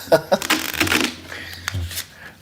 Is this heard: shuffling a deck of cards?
yes